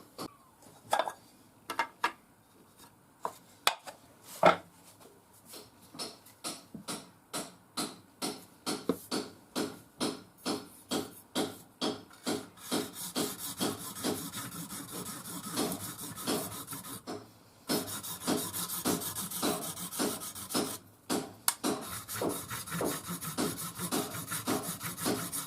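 An old Mora knife being convex sharpened on a fine abrasive, with repeated rhythmic rasping strokes, sparse at first, then steady and regular, close and moderately loud, with no talking.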